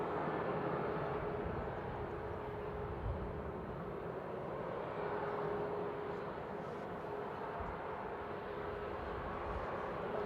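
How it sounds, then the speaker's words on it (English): An airliner landing at Manchester Airport roars with reverse thrust, a steady broadband rumble at constant loudness heard from a distance throughout, with no voices. "That's my favourite reverse thrusters."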